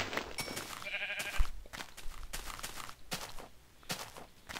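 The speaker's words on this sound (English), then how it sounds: "Another stuck sheepy." Sheep in the Minecraft video game bleat a few times amid game footstep and movement sounds, fairly close and clear, with no talking.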